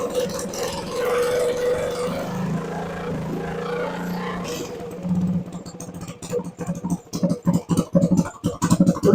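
A GN Spider cycle kart engine, a replica of the 1923 design, idles steadily and fairly loud, then settles into a choppy, pulsing beat of uneven firing strokes.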